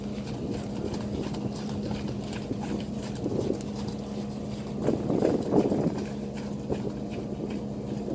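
A horse trotting in a riding lesson, rhythmic hoofbeats under steady wind noise, growing a little louder and closer midway.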